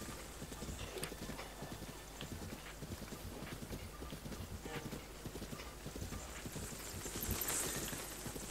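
Horse hooves clip-clop in a steady trotting rhythm in the video game Zelda Breath of the Wild, with a brief whinny and game ambience around it, moderately loud and continuous.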